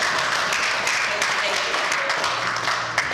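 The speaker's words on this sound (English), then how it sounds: "Give all of themselves a round of applause." A conference audience gives a round of applause, dense broadband clapping from many hands that stays steady and fairly close throughout, with a speaking voice faintly mixed in.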